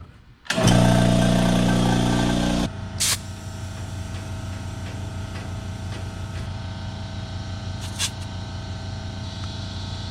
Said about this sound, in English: let's fire up the air compressor and we'll make sure they're all good